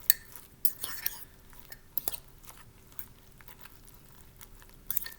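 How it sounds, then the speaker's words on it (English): Soft clinks and wet scraping as bread is stirred through an egg mixture for microwave French toast, a few sharp utensil taps over quiet, close handling, with faint talk. "you're going to stir up your French toast and make sure you coat all of the bread with that egg mixture that you made"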